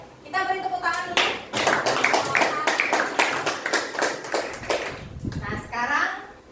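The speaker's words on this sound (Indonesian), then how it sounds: "Kita beri tepuk tangan dulu." A classroom group claps for classmates after their presentation, a burst of quick sharp claps in uneven rhythm from several pupils, close and loud, with children and a teacher's voice speaking at the start and end.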